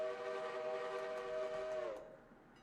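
A passing train in a railroad video game set on a Smoky Mountain line, heard as a steady whistle-like harmonic drone with rumble that drops sharply in pitch and fades as it moves away.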